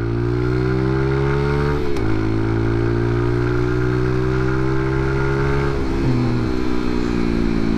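A 2021 Romet SCMB 125 motorcycle accelerates hard through the gears, loud and close: its engine note climbs steadily, drops sharply twice at the shifts and then pulls upward again, with no voices.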